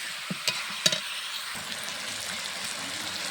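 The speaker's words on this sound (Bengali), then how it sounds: "মাংসটা সুন্দর করে নাড়াচাড়া করে নিচ্ছি।" Meat frying with stone-ground ginger, cumin and spice paste, giving a steady sizzle with a few sharp spoon scrapes early on and then a continuous hiss, close and without voices.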